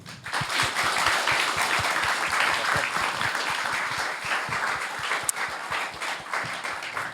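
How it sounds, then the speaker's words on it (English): A seated audience at a panel discussion claps warmly for a departing guest, steady applause with distinct close hand claps that holds strong, then slowly thins toward the end. "give her a warm applause"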